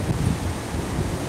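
Seaside during a typhoon, with a steady wash of waves and gusting wind rumbling against the microphone throughout the short moment.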